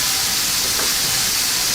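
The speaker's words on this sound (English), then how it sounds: "So you can hear that nice sizzle as we put those in there." Steaks sizzling in a hot pan give off a loud, steady hiss of frying, a broadband crackle that holds without a break for under two seconds.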